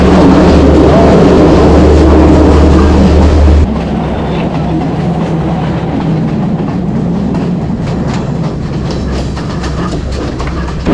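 A passenger train runs on the rails in Sri Lanka, heard from inside as a loud, continuous rumble with steady wheel clatter; the deep roar eases slightly partway through, then carries on unbroken.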